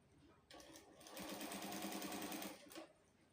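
A sewing machine runs in a steady stitching burst of about two seconds while sewing a pencil pant, starting and stopping with a brief pause and restart, close and fairly loud.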